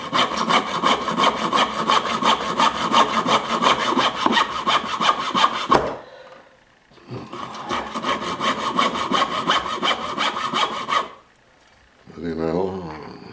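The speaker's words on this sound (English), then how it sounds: "We're sawing through the first wood screw." Steady back-and-forth sawing through wood and a wood screw, close and loud, in two long bursts separated by a short pause, ending with a brief low rumble.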